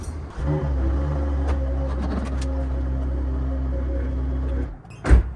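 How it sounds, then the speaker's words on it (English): A car idles and creeps slowly backward inside a tight cottage garage, a steady low engine hum close by, ending with a short sharp knock. "I'm going to back the car up a little bit."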